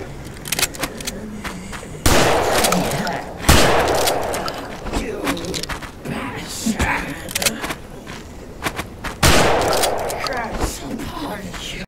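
Folding shotgun blasts in the game Gloomwood, several heavy booming shots spaced a couple of seconds apart with echoing decay, mixed with mechanical clicks and clatter of reloading between them.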